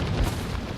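A grenade blast in Resident Evil 4 lands as a single dull, low boom, moderately loud and brief, with no voices over it.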